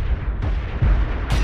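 Heavy booming gunshots ring out in a film trailer, with three or four loud, deep blasts in quick succession over a rumbling background.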